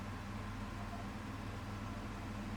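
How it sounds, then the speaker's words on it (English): A kitchen oven hood extractor fan runs in a small flat, a steady broadband whoosh with a low hum, constant and fairly quiet throughout with no voices. "So the noise you can hear is just the oven hood."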